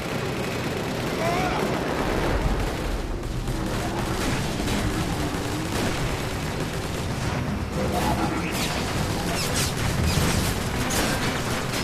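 Sustained gunfire erupts in Transformers: War for Cybertron, dense bursts of energy weapon shots and blasts layered in a loud chaotic firefight that carries on unbroken.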